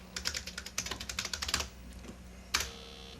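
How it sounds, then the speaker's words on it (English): Rapid bursts of keystrokes on a 1980s computer keyboard as a name is typed, close and crisp, with a short pause and one final keypress near the end; no one speaks. "let's type in Susan Smith"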